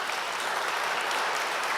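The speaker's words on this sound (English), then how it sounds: "Huge round of applause for Parker Lewis" Audience applause after a talk on Bitcoin and money, a dense, loud, even burst of many people clapping throughout the short moment.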